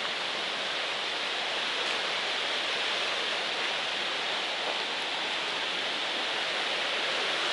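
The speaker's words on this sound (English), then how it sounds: "that's a waterfall." A waterfall along the Virginia Creeper Trail gives off a soft, steady rushing hiss, constant and unbroken, heard at a modest distance with no other sounds.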